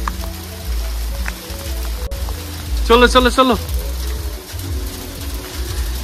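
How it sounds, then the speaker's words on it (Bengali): Rain mixed with hail falls steadily during a mountain trip, a continuous patter of drops on surfaces nearby, with a person briefly calling out over it. "এখানে বৃষ্টি স্টার্ট হয়ে গেছে, আর বৃষ্টি মানে শিলা বৃষ্টি।"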